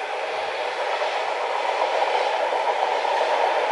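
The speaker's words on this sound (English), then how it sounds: "There you go, there's a train. It's going to go across there." A train crossing near a lake in the Lake District, a loud, steady broadband rumble and rush that swells slightly as it passes close by, with no voices.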